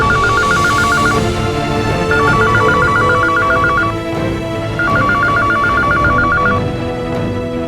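A telephone rings in three repeated bursts of rapid electronic trills inside a family home, sounding fairly loud over a steady bed of dramatic background music.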